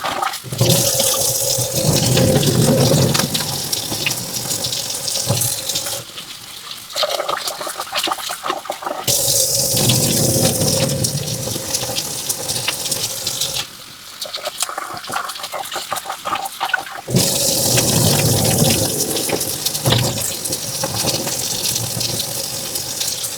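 Rice rinsed by hand under a running kitchen tap before steaming, with water gushing loudly and steadily in long stretches broken by short quieter pauses where the flow stops, and no talking.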